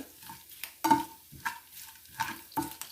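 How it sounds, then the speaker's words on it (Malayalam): Grated coconut with curry leaves roasts in a pan for erisseri, a spoon scraping and stirring in uneven strokes over a faint sizzle, close and quiet, with no voices. "ഇനി തേങ്ങയും കൂടി ചേർത്ത് വറുത്തെടുക്കാം"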